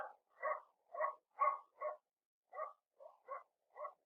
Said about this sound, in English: a dog was barking